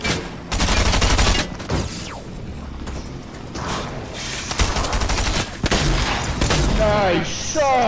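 Rapid gunfire bursts and single shots in a first-person shooter, loud and close, with repeated volleys and mechanical clacks, while players talk over the shooting.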